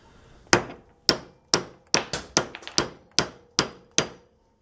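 A bearing being hammered into the center pulley of a drill press: about a dozen sharp metallic strikes, close and loud, each ringing briefly before the next, with a quicker cluster in the middle and no talking.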